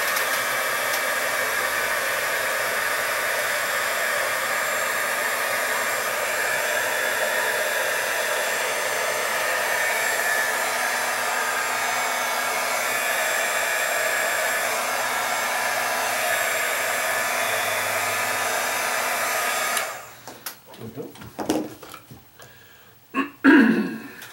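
A heat gun shrinking a second layer of tubing during a fan repair: a steady, loud blowing roar for about twenty seconds, then it cuts off, followed by a few scattered handling clatters.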